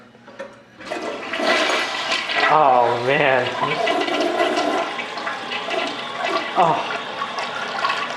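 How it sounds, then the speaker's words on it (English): A 47-gallon-per-flush old toilet flushes loudly and steadily nearby, with a rushing, gurgling water roar that lasts for several seconds while a person briefly exclaims over it. "this is the 47 gallon per flush. I gotta get a video, hit it."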